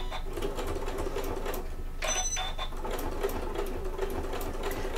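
A sewing machine stitching a bag at stitch length 4, running in a continuous fast whirring rattle with a brief higher mechanical whine partway through, close and steady with no speech.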